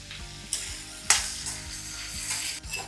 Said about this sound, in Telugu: నూనె బాగా వేడెక్కిన తర్వాత కాకరకాయని వేయించుకోవాలండి